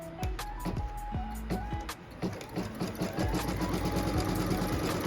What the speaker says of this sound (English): now it's time to stitch out that placement line for the batting